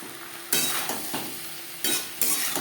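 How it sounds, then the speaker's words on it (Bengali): Potatoes and eggplant stirred in a pan over a high-to-medium flame, part of a pabda fish curry; the sizzle surges in loud scraping bursts between quieter stretches. "হাই টু মিডিয়াম ফ্লেমে 3-4 মিনিট আলুর সাথে বেগুন নাড়াচাড়া করে নেব।"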